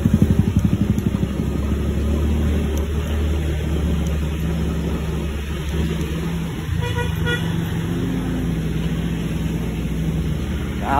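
A motorcycle engine idles with a low, steady rumble close by, its pitch shifting slightly, with a brief horn-like tone partway through.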